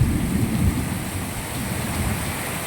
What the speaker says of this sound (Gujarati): વરસાદની ગતિ વધી ગઈ છે